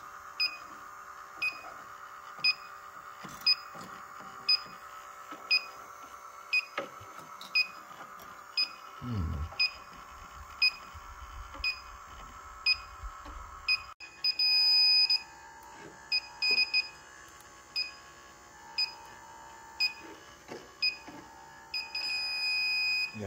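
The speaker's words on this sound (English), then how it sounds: "When you're using a refrigerant leak detector like this, never take the sensor tip and hold it in the airstream." A refrigerant leak detector beeps steadily in a regular, rapid pulse while checking a mini split heat pump coil, the chirps close and clear over a quiet background, with occasional handling noise.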